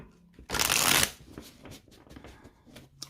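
Tarot cards riffle-shuffled in one loud close burst lasting about half a second, followed by softer taps and handling sounds as the deck is cut for a reading.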